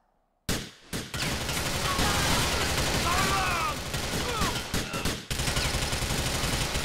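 Rapid bursts of gunfire from GTA IV fill the scene, loud and continuous with dense automatic volleys and single cracks, pausing briefly near the start and end, while someone talks over it.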